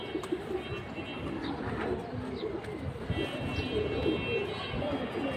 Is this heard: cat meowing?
no